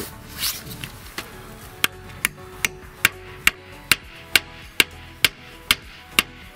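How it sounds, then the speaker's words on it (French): A hammer taps screw anchors in a steady rhythm, about a dozen crisp close strikes spaced evenly, with faint handling noise before. "Petit coup de marteau."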